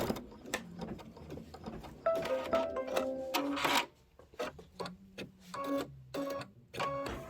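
An embroidery machine stitches a placement line into felt for a book cover, its rapid mechanical stitching coming in steady bursts separated by short pauses, close and moderately loud, with no voices.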